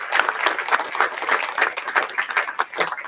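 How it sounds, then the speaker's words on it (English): Applause at a Holy Blessing Ceremony for blessed couples, a warm round of clapping from a crowd in a hall, rhythmic and steady over a few seconds. "let us give a warm round of applause to our beloved true parents for the blessing prayer"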